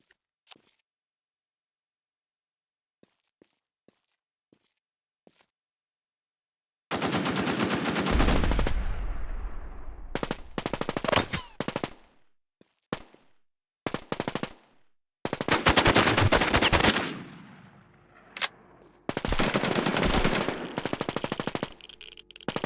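A SIG rifle in the video game Infestation The NewZ fires long, loud, close bursts of rapid automatic shots, each run separated by short gaps, with scattered faint clicks before the shooting begins.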